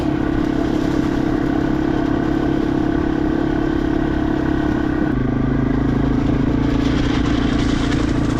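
A Yamaha TW200 motorcycle with fat tires rolls along an abandoned railroad bed, its small engine giving a steady, close, unbroken drone that shifts tone slightly midway, with no talking.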